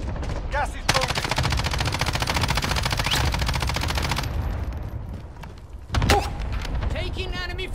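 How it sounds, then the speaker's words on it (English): Rapid automatic gunfire rattles continuously in a video game firefight, then cuts off, followed by scattered thuds and a burst of impacts, with a voice speaking over parts of it. "Taking enemy fire."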